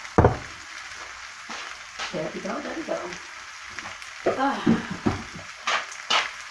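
Orange chicken sizzles steadily in a hot pan, a continuous frying hiss with occasional stirring, while a person talks over it in short bursts.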